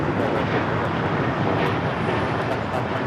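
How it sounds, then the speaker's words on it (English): A Porter Airlines Embraer E195-E2 jet takes off at LAX, producing a loud, constant broadband engine roar that stays steady for the whole few seconds. "662 taking off to Toronto on the E195 E2"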